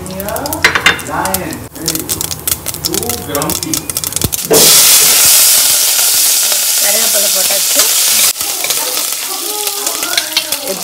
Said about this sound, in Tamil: இப்போ இதில் தாளிக்க போகிறேன், தேங்காய் எண்ணெய் ஊற்ற போகிறேன்.